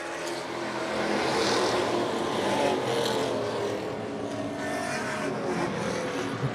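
Race cars roar around the track during the Super Street 100 race as the field gets back underway, a loud, continuous engine drone swelling and fading as cars pass at a distance.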